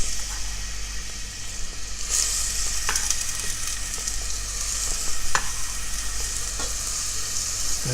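Small chopped onion sizzling in hot olive oil in a pan on a stovetop, a steady close frying hiss with a few sharp clicks and stirring knocks, no voices.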